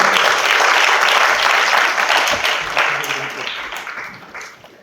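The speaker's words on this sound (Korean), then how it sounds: "박수의 자리에 모시겠습니다." Audience applause welcoming a pastor to the stage at a church continuing-education lecture for ministers, a dense, sustained clapping wash from a large room that holds steady and then gradually tapers off.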